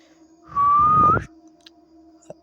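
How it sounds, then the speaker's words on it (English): A single sustained whistle in a dark forest horror tale, one steady high tone lasting under a second, clear and prominent over a faint background hum. "the whistle sounded"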